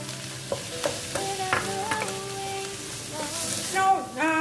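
Sliced mushrooms and carrot stir-fry in a pan, a soft steady sizzle punctuated by scraping stirs and light taps of a utensil, with tonal ringing layered over it.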